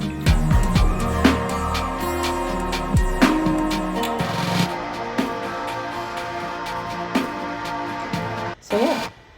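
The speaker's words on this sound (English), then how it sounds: "It says it's a Jupiter synth VST." A Jupiter synth VST part with a narrow, thin tone plays a dense run of plucked notes that thins out into sparser hits and ends in a brief drop, all at moderate level with no voices.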